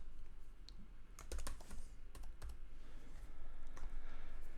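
Fingers type on a computer keyboard while coding HTML, a close, quiet run of key clicks with a few sharper, louder strikes like the enter key being hit, alone without talk.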